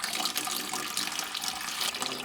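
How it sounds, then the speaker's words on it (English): Tap water running into a bucket in a rural Bhutanese village bathroom, a steady close hiss and splash that continues throughout the short stretch with no talking. "fill up this bucket"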